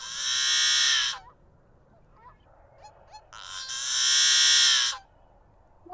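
Yellow-headed blackbird song: two loud, harsh, buzzing rasps, each about a second long, separated by a few faint clicks and short notes, close and clear with no talking.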